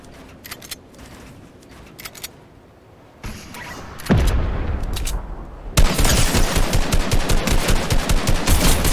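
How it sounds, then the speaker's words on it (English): A drum gun fires in Fortnite, starting with scattered shots and intermittent noise, then breaking into a loud, sustained, rapid-fire burst of repeated shots. "That's a drum gun."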